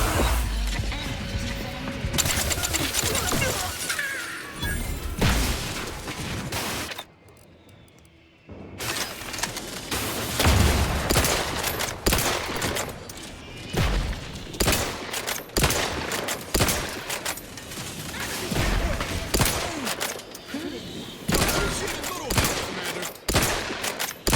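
Gunfire in The Outer Worlds video game, with repeated loud bursts of automatic and single shots, impacts and crashes continuing over many seconds, broken by one brief quiet pause.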